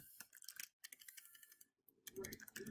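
Close, crisp keyboard clacking comes in quick uneven bursts with short gaps, typed on a computer while someone talks over it.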